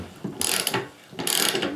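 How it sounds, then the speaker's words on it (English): A half-inch ratchet tightens a 15/16 hex jam nut on a spindle assembly of an older MTD riding mower, giving two close, distinct bursts of rapid clicking with a short pause between. "using a half inch ratchet here to put it on."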